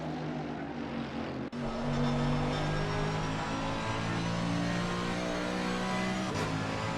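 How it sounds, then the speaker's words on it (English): Lamborghini GT3 race car engine at Monza in a racing game, a loud sustained drone with shifting pitch after a sharp cut, as if revving through gears. "Oh, the Lamborghini spins out again."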